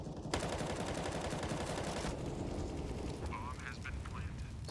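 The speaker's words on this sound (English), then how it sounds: "Steel trying for the wall bangs." Rapid bursts of gunfire shot through a wall in the video game Counter-Strike, dense and loud across the clip, with a brief higher crackle near the end.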